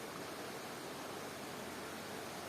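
A waterfall heard from a distance, a steady, even rush of falling water with no talking.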